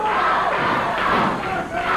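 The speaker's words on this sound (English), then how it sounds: "leading the cheers, cheering on Tojo Yamamoto" Wrestling crowd in a 1980 Memphis arena roaring and cheering on Tojo Yamamoto, a dense, loud wall of voices with a thud near the start and a brief dip before swelling again.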